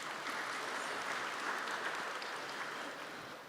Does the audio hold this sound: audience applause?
yes